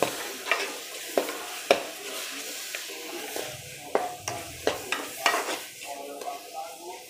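Mashed bananas for banana barfi are stirred into a hot pan, with repeated spoon scrapes and clacks against the metal over a soft sizzle, close and steady.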